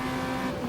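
A rear-wheel-drive Chevrolet Opala race car in the Automobilista racing game holds a steady, loud engine drone for a brief moment, with no voices.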